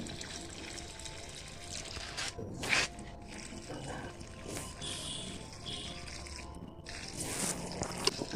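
Water pours and trickles over a plant pot of compost-rich soil in a rooftop garden, a soft, continuous wet splashing with a few brief louder gushes and no talk.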